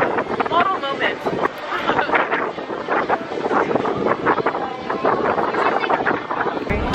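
Strong wind buffeting the microphone outdoors in Seoul, South Korea, a loud continuous rushing roar with gusty surges, while people talk underneath it.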